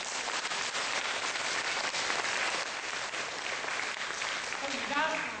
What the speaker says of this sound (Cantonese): 我哋俾啲掌聲支持佢